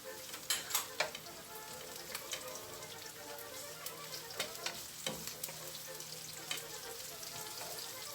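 Onions frying in a pan for chopsuey, a steady crackling sizzle with a few sharper spatters near the start, fairly quiet and close, with no talk over it.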